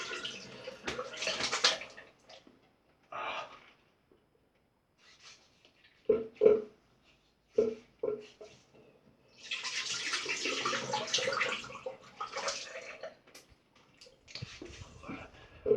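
Water splashes in bursts, with cupped-hand rinsing of the face after a straight razor shave and dripping at close range, separated by quiet pauses and a few soft knocks.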